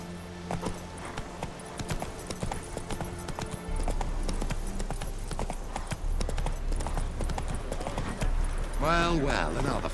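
Horse hooves clip-clop at a trot in The Witcher 3, a steady, close rhythm of hoof strikes over ambient game sound, ending with a brief whinny.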